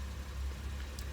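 A Lexus IS250 fitted with an Injen intake idles with a steady, low, even hum, close by and without talk.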